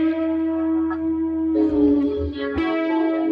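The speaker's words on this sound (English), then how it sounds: "see, we took it up a whole step there." Electric guitar with effects, a sustained note whose string is bent up a whole step, sliding upward with a chorus-like shimmer and ringing clearly, with no talking.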